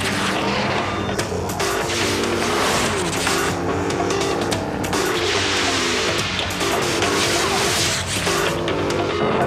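A 300 horsepower Lexus GS sedan races hard, with a loud engine roar, revving and tire squeal mixed with dense music and effects, no talking.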